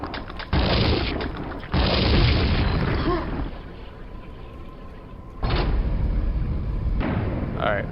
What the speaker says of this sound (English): The grenades got him.